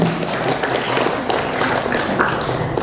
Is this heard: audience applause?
yes